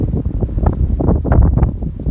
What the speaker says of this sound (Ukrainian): Шалений вітер.